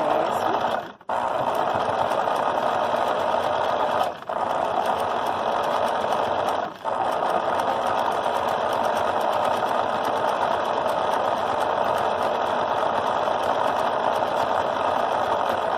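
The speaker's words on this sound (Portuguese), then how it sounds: "Costurei até o final, certo?" Sewing machine running steadily as it stitches wallpaper-print fabric for a tote bag, a continuous mechanical whir broken by three short pauses, close and alone.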